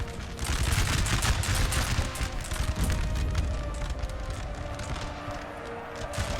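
Infantry musket volleys in a Napoleon Total War battle, a dense crackling fusillade of many shots running loud and continuous with booming low rumble and battlefield din throughout.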